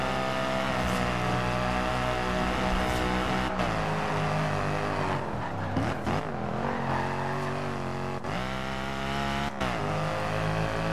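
A Mercedes in the racing game Forza Horizon 2 screams along at very high speed, the engine holding a high steady whine with brief dips and surges as gears shift and revs fall and climb.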